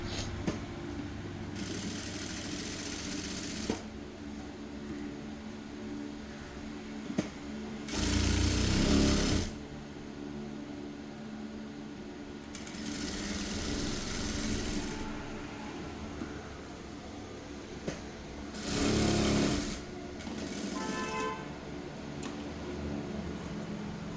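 Sewing machine stitching a lining blouse, running in several bursts of a few seconds each with quiet pauses between, close and fairly loud over a low background hum.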